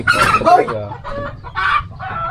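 Chickens cluck close by in a run of short, throaty calls that rise and fall, with a few louder bursts among them.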